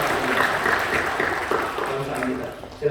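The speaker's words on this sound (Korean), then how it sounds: "박수해 주시죠" A church congregation applauds in a sanctuary, a steady wash of clapping heard across the room, while a voice speaks over it.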